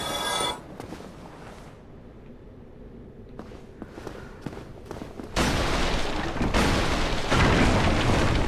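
A bomb thrown by an enemy explodes in Dark Souls Remastered: a loud burst at the start, a quieter stretch with faint scattered sounds, then a second heavy, rumbling blast that sustains to the end.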